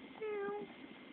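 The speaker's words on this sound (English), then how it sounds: "Kitty cat go meow." A cat gives a single short meow, soft and somewhat distant, standing alone against quiet background noise.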